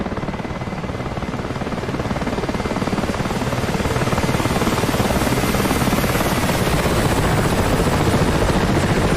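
Mi-8 Hip helicopter heard from outside in the DCS flight simulator, a loud, dense rotor and turbine roar with rapid blade chop that holds steady and swells slightly, with no voices.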